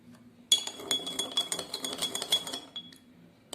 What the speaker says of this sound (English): We'll stir both the glasses